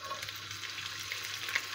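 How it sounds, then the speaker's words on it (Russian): Lamb heart fat sizzling in a hot cast-iron pan, a soft, steady crackling fry with faint pops, quiet and close with no voices. "Чугунная сковорода прекрасно разогрета. Сейчас я высыпаю сюда жир,"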